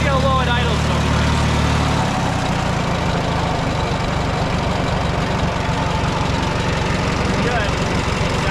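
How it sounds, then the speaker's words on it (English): A Farmall tractor engine idles low and loud up close, a rough, rapid chugging rhythm that settles after a brief steadier drone at the start. "Let's see how low it idles sometimes."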